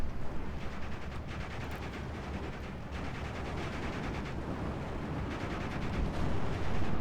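Sustained infantry gunfire in the World War II strategy game Steel Division 2, a continuous dense crackle of rifle and machine-gun shots with distant rumbling explosions, steady and unbroken.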